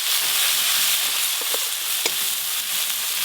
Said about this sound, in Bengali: সব কিছু একসঙ্গে একটু হালকা করে ভেজে নেব।